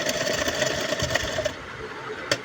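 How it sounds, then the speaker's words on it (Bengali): A sewing machine stitches over a fabric art piece with a quick, even mechanical whirr that is close and fairly quiet. It stops after a short run, and a single sharp click follows. "এখন আমি যে আর্টগুলো তৈরি করেছিলাম সেই আর্টের উপর করে একটা করে সেলাই করে দিচ্ছি।"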